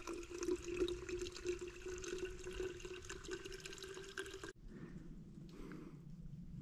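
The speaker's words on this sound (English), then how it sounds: "I'm gonna grab some water, filter it up right here." Water from a stream on a snowy Appalachian Trail backpacking trip runs and splashes steadily while it is being filtered, then the flow changes to a softer, lower trickle.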